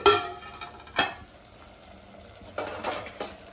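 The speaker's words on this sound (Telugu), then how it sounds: "చారుకి టమాటా మగ్గుతున్నాయండి ఇదిగోండి" Tomatoes softening in a pan for charu (rasam), with frying sizzle under a few sharp clinks and scrapes of a spoon stirring against the metal pan, close by and with no voices.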